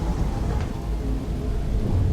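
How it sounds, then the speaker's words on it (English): Heavy rain with low rumbling thunder in Horizon Forbidden West, a dense continuous downpour roar that stays loud and steady throughout with no voices. "it's absolutely peeing it down with rain"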